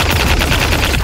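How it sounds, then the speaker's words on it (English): A Gel Blaster Surge toy blaster fires on full auto outdoors, a loud, close, unbroken rapid burst of shots with no pauses across the whole moment. "Surge is cool because it's got semi, triple, and full auto. Let's shoot it outside for a second."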